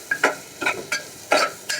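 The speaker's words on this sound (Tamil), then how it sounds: "இது நல்லா வதக்கிக்கோங்க." Spices for a dried fish curry (karuvadu kuzhambu) sizzle in a pan as a spatula scrapes and stirs in about five quick, close strokes.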